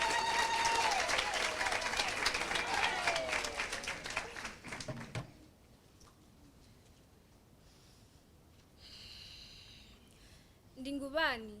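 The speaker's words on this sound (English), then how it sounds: "Please join me as I welcome her with a round of applause." A crowd claps steadily and loudly, then the applause fades out to near silence, followed by a faint voice and a brief sound near the end.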